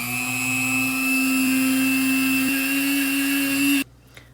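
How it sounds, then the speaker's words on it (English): Granulated sugar, a third of a cup, being ground into powdered sugar in an electric grinder: a steady, loud motor whine with a high buzzing drone that runs unbroken for nearly four seconds, then cuts off abruptly into near silence. "here I have 1/3 of a cup of granulated sugar, and we will just grind it, and that's how you make your own powdered sugar."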